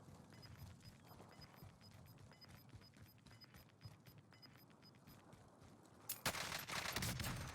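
Rapid gunfire from a Kilo rifle in the Warzone video game crackles in quick bursts at moderate volume, with a louder, denser stretch of shooting near the end.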